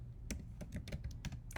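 Keys clack on a computer keyboard in a quick, uneven burst of soft, close taps with no voice present.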